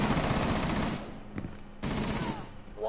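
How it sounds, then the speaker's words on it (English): Bursts of rapid video game gunfire, loud and dense at first, then a pause broken by a single sharp shot before firing resumes. "Someone was shooting at me."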